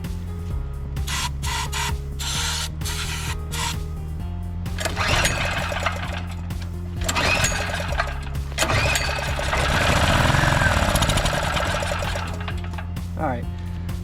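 An abandoned Generac GP3300 portable generator with a plugged carburetor runs on brake cleaner. It makes a loud, rattling mechanical clatter close by that surges and stumbles unevenly, with stretches of rougher, louder running.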